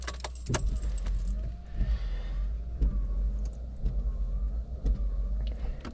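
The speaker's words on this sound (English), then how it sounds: "driving an Abarth 595, cracks and pops" A small Abarth 595 hatchback's exhaust crackles and pops in sharp irregular bursts over a low engine rumble, close and punchy.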